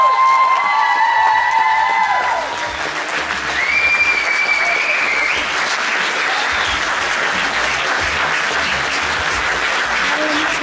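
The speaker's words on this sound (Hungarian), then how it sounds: "De most, 2021-ben nektek szól a taps!" A large audience bursts into dense, sustained applause and some cheering for the finalists at the results ceremony of a Vác singing contest, with a brief sustained tone fading early on and a continuous loud wash of clapping throughout.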